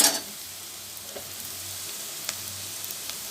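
Onions and green chillies sautéing in a pan for a Tamil amaranth greens stir-fry, giving a steady soft sizzle with faint stirring scrapes and small crackles throughout.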